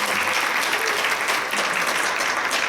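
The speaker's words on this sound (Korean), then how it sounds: "박수 한번 좀 보내주실까요?" A church congregation gathered for a Sunday worship service claps together, producing steady, full applause from a roomful of hands that lasts evenly throughout.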